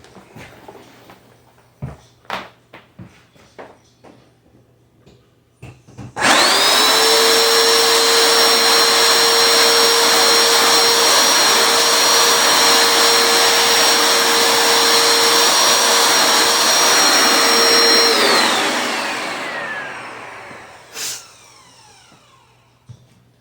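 A Hoover FH50150-series carpet cleaner with a replacement motor switches on with a sudden loud whine and steady suction roar, holds for about twelve seconds, then spins down and fades after a few small clicks and knocks.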